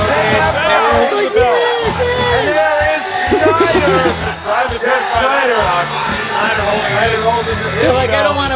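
A live arena crowd at a Movie Trivia Schmoedown event roars and boos as the competitor JT makes his entrance, a dense, loud wall of jeers, shouts and chatter sustained throughout.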